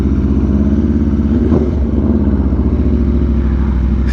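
A 2022 Aprilia RSV4 1100 Factory superbike accelerating hard, its engine a loud, steady, dense drone heard up close with a brief mechanical clatter partway through and no talking.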